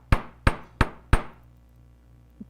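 Four sharp metal hammer blows strike a workpiece at an even pace, each ringing briefly before the next, followed by a faint tap after a pause while shaping a hammered texture in metalworking.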